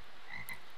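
Frogs croak in the Fancy Pants Adventure World 3 video game, a short burst of game-sound croaking with a bright chirpy tone, heard alone and moderately loud.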